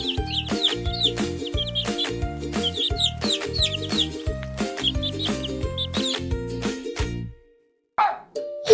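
A chicken clucks and chirps in quick repeated bursts over a steady, tuneful musical backing, loud and close, before the sounds break off near the end.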